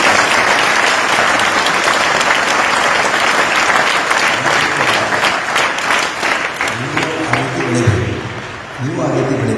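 A crowd applauds loudly and continuously at a gathering honouring top-scoring students, the clapping dense and sustained before thinning toward the end as a voice begins speaking over it.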